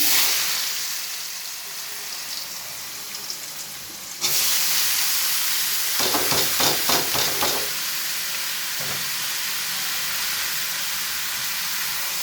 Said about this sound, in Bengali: কড়াই তেল গরম করতে দিয়েছি, গরম হয়ে গেছে, শুকনো লঙ্কা পুরো। আলুটা দিয়ে দেবো এবার বন্ধুরা।